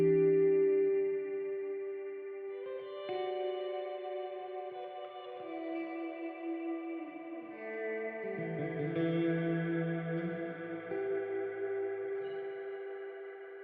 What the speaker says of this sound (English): if you play a chord and you hold the button in, it holds that reverb